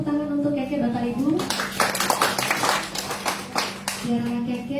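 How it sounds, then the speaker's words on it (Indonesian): A church congregation at an Advent service claps for a young performer, a burst of applause that swells after a spoken line, holds for a couple of seconds, then fades as talking and a held tone return. "Sekali lagi tepuk tangan untuk Keke Bapak Ibu."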